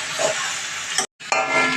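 Grated boiled potato for masala dosa is lightly fried in a pan, giving a soft, steady sizzle and hiss with stirring scrapes, briefly cut off before the frying resumes.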